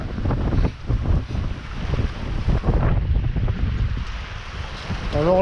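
Strong wind of about eleven knots buffets the microphone aboard a sailing boat, with a rushing roar and splashing water against the hull. The noise swells and dips in loud gusts from start to finish.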